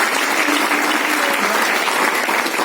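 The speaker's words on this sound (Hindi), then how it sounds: "एक बार मैम के लिए एक जोरदार तालियां" Applause from a club audience at a speech event, a steady, dense clapping that fills the whole stretch at even loudness, with no voices on top.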